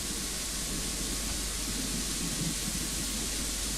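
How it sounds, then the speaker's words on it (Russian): Heavy pouring rain falls in the video game Kingdom Come: Deliverance, a dense, even hiss that fills the whole stretch with no other sounds standing out. "Еще под таким проливным дождем зашибись"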